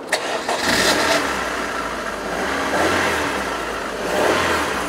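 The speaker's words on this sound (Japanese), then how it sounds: "エンジンかけてみましょうか。" An MG TF roadster engine cranks and fires up, catching after a short starter whir, then settling into a steady, close mid-pitched idle with slight revs rising and falling.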